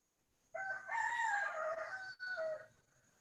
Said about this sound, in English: That's a rooster sound.